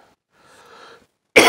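A single sharp cough from a man with a cold, sudden and loud at the very end after a stretch of quiet muffled sound.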